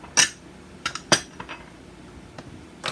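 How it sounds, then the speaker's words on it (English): Pioneer Woman measuring cups clink sharply a few times while being handled in a kitchen, bright close metallic taps separated by quiet pauses, with no talk. "I will use these. These are my really cool Pioneer Woman measuring cups."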